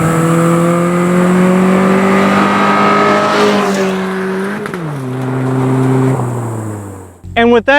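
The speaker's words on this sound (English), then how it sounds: "the car is at its shift point. Now shift." A manual-transmission car's engine revs up steadily under load, then drops sharply as a gear change is made, then climbs again, loud and close, ending with a brief burst of higher revving.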